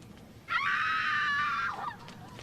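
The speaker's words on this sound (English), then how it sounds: "Some sound of screaming." A woman lets out a single loud, sustained scream on request, shrill and steady for over a second before breaking off, alone against quiet room tone.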